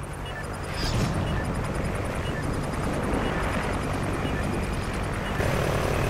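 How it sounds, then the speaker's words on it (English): Super Hind attack helicopter arriving in the video game Call of Duty: Ghosts, a steady, loud rotor and engine roar that swells after the first second and holds continuously, with no voices. "Super Hind ready for deployment. Friendly chopper inbound."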